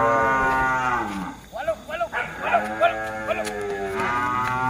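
Bulls for sale at a Vietnamese cattle farm moo in long, loud, low calls, one after another near and far, with several short grunting bursts from the herd in between.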